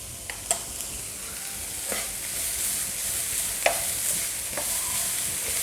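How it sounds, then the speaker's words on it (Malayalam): Ginger garlic paste frying with onions in a pan, a steady close sizzle with a few sharp scrapes and stirring clinks of a spoon against the pan. "ഇനി ഈ ജിഞ്ചർ ഗാർലിക് പേസ്റ്റിൻ്റെ പച്ചമണം മാറുന്നത് വരെ നന്നായി ഒന്ന് വഴറ്റിയെടുക്കാം."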